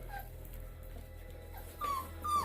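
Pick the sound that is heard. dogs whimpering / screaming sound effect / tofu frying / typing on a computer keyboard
dogs whimpering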